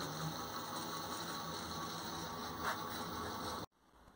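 An electric bicycle hub motor spinning backwards gives a steady mechanical whir and ratcheting grind with a faint high whine, continuous and close, then cuts out abruptly near the end.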